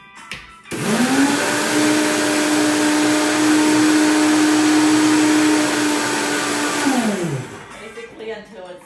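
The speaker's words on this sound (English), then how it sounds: "I'm gonna put that in there and grind it up." Oats grinding into a fine powder in a kitchen blender: a loud, steady motor whine that spins up, holds evenly for about six seconds, then winds down, close and alone.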